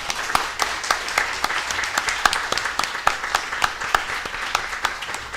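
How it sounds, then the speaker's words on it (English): After a panel discussion, an audience in a hall gives a steady round of applause, with a few sharp individual claps standing out for several seconds. "Please give our panelists a round of applause."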